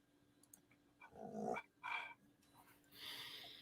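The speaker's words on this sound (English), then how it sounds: "Hang on, I got a little dog out." A small dog growls in a few short, rough bursts at close range, with a louder, hissier snarl near the end. The room is otherwise quiet.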